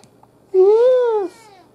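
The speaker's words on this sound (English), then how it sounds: "You wanna meow to somebody? Meow to everybody? Here. Here, you can meow at them." A single clear, fairly loud cat meow lasting under a second, rising then falling in pitch, close to the listener with near silence around it.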